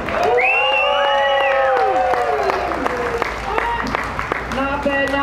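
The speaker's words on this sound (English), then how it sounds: "On the count of three, everyone clapping." A street-show crowd claps and cheers loudly for a unicyclist while shouting and whistling voices rise over the top, the clapping turning sharper and more scattered toward the end.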